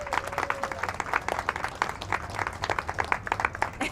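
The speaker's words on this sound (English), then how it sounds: "So let's give a big round of applause to Josh" An audience at an Earth Day clean energy rally claps for a speaker, a brisk, dense patter of many hands that holds steady for a few seconds.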